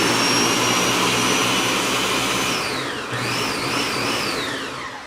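A Ninja BL610 Professional 1000-watt blender runs on high with a loud, steady whine and a roar close by. The pitch sweeps down and then climbs back up partway through, and no one speaks.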